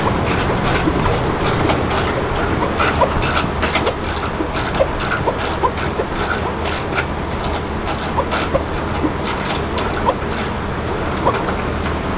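A ratchet wrench tightening bolts while a front splitter is fitted to a Dodge Challenger, making rapid continuous clicking strokes, loud and close, over a steady background noise.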